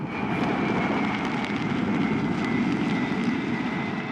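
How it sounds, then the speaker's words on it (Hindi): Sukhoi 30 and Mirage 2000 fighter jets landing and taking off on an Indian expressway, heard as a steady, loud, broadband engine roar that holds without a break and has a faint high whine over it. "यहीं पर देश के 8 लड़ाकू विमान एक साथ लैंड और टेक ऑफ करेंगे।"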